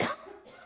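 A single short cough from an adult, close and fairly soft, fading quickly into quiet room tone.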